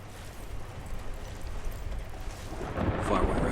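In the video game Battlefield: Bad Company 2, a low, rolling rumble of thunder builds steadily and swells louder toward the end, with a hiss like rain over it.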